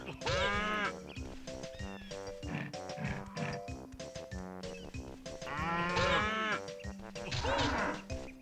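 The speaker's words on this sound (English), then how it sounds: "I can't kill the cow, I can only knock it down." A cow mooing and bleating in the Banjo-Kazooie game, a series of wavering, cartoonish animal calls over bouncy background music, faint overall, with louder calls near the start and again toward the end.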